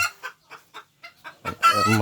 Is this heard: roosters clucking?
yes